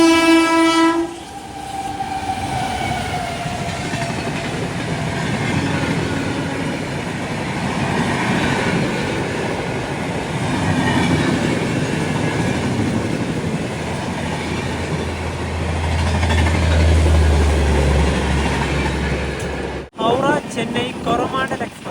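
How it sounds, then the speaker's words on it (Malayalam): A Visakhapatnam Ratnachal Express train passes in the rain, a loud continuous rumble of wheels and carriages with a long horn blast at the start and a sudden cutoff near the end; voices are heard nearby. "ഇതിലൂടെ മറ്റൊരു ട്രെയിൻ കൂടെ കടന്നു പോകുന്നത് കാണാം"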